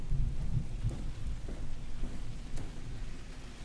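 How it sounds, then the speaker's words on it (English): A storm in the SOMA video game brings loud, rolling thunder with rain, a deep rumble filling the short stretch with no voices. "that's a loud thunder"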